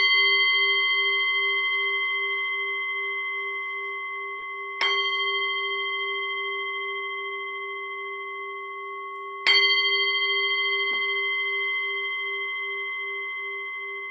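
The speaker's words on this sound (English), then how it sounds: "I will ring the bell right now" A meditation bell struck three times at even intervals, each strike ringing out clearly and decaying slowly into a quiet room.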